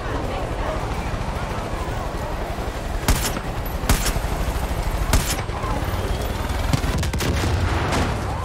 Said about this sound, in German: Ich glaube, die Explosion hat den einen oder anderen auch mitgenommen.